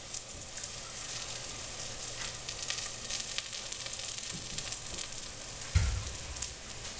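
Mild California chilies sizzle in a pan of gravy, a soft continuous crackle with a heavier splash or thump near the end as more goes into the hot pan.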